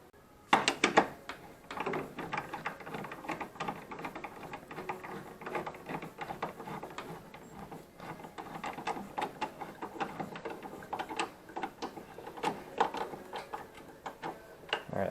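A socket clicking and ticking as it turns the water pump on a VW MK5 2.5 by hand, a run of light irregular metallic clicks, close and fairly faint, with no talking.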